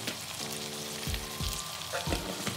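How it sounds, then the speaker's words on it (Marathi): Mixed vegetables sauté in hot oil with spices in a pan, a steady close sizzle with occasional stirring scrapes and soft clinks, no talk. "परतून घ्यायचं तेलामध्ये, मसाल्यामध्ये."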